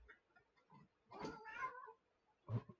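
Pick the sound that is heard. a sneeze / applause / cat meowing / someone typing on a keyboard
cat meowing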